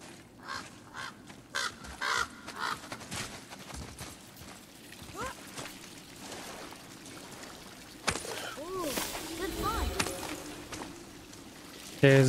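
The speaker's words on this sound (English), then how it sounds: "I'm hearing crows." Crows caw several times in a God of War level, their harsh calls scattered over a busy game soundscape of footsteps, thuds and ambient rumble.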